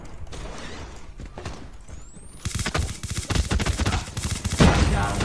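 Rapid bursts of gunfire from a ChiCom submachine gun fitted with a silencer and holographic sight in a shooter game, close and loud, swelling from muffled shots into dense sustained firing.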